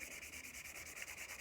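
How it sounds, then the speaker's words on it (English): A painted surface is sanded by hand to take off its shine, heard as soft, rapid rhythmic rubbing strokes close up and fairly faint, with no voices. "sand the surface down and give it a bit of a key"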